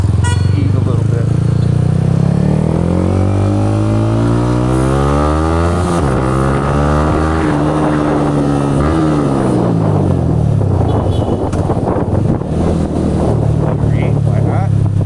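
Motorcycle engine in Saigon traffic, loud and close, revving up through rising gears and then easing off into a lower rumble, with street noise around it.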